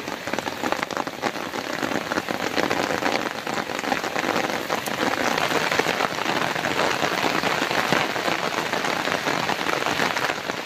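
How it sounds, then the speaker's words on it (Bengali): Steady, dense rain pours down on surfaces beside a canal during a fishing trip, a loud, even patter that carries on without a break and with no voices. "মাঝে মধ্যে বৃষ্টি হচ্ছে আবার থেমে যাচ্ছে"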